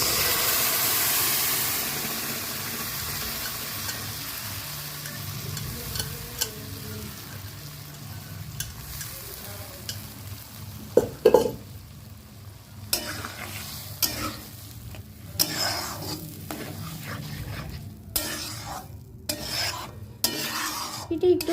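Eggs frying in a pan for a Bengali dim tarka, a steady low sizzle broken by repeated scraping and clattering strokes of a spatula stirring, louder and quicker toward the end, with no talking.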